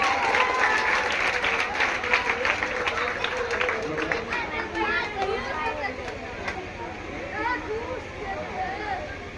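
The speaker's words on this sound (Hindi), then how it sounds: "जोरदार ताली से स्वागत" Audience at a village quiz competition award ceremony in Bagdi claps steadily and loudly through the whole stretch, with children's chatter and voices mixed into the applause.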